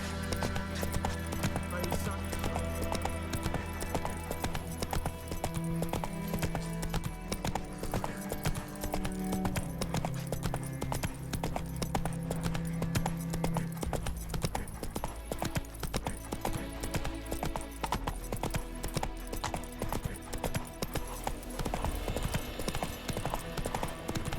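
Roach's hooves clip-clopping in The Witcher 3, a steady rapid rhythm running throughout, loud and close over a continuous music bed.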